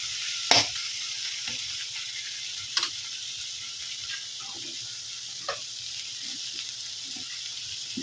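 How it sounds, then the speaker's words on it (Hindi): Indian garam masala spices frying in a pan give a steady, quiet hiss, punctuated by a few sharp clicks and scrapes of a stirring spoon against the pan. "थोड़ा इसको भूनने देंगे। गरम मसाले पक जाएंगे।"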